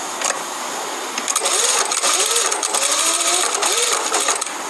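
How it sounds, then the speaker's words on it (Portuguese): A sewing machine stitches along a folded fabric edge in bursts of fast, loud, close mechanical whirring that speed up and slow down, with no one talking. "A gente só tá, ó, dobrando o tecido e costurando bem na beiradinha."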